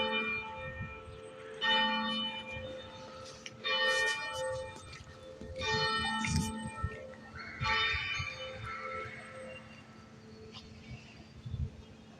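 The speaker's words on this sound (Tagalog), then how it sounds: "Munog na ang kanilang kampana." The bell of Santiago Apostol church in Taytay, Rizal, tolling repeatedly in slow, evenly spaced metallic strikes with long ringing decays, each strike loud and resonant against faint background hum.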